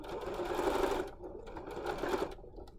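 A sewing machine stitches the top edge of a pleated fabric mask, running in two quick bursts of rapid mechanical whirring with a brief pause between, close and fairly soft.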